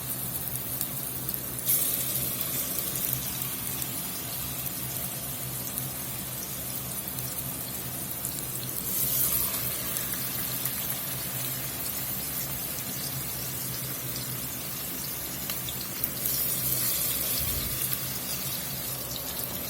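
Pork steaks searing in high smoke point avocado oil give a steady, broadband sizzle that hisses continuously at moderate level, with a few brief swells in intensity and no talk.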